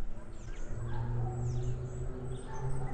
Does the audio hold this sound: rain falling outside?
no